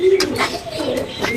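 Spanish pigeons at a small home pigeon farm coo in low, throaty murmurs close by, repeated through the moment and partly mixed with nearby human voices talking.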